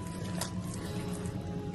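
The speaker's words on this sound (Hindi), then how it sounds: "और आराम आराम से पानी डालते रहेंगे।" A soft, steady trickle of water poured slowly into pakora batter, close by, with a low background hum and no talking.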